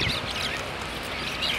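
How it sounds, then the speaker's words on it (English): A flock of birds in Afghanistan gives duck-like quacking and honking calls, overlapping and fairly close, over a rough outdoor background with no talk. "We are hunting birds,"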